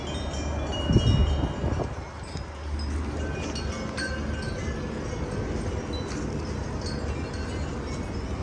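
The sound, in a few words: strong wind gust blowing through trees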